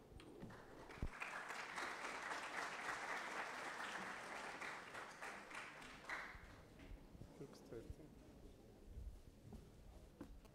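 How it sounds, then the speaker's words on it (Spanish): An audience at a public policy event at an institute of advanced national studies claps warmly for several seconds, a dense patter that swells and then fades. Scattered claps and faint room noise follow. "con el aplauso de ustedes dejo a Adolfo Salcedo en esta mañana"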